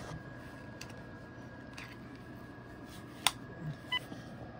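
A couple of short keypad beeps from a Cisco SPA525G IP phone on a FreePBX system, sounding as brief separate tones near the end over a quiet, faintly humming room.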